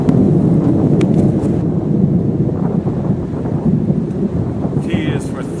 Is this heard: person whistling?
no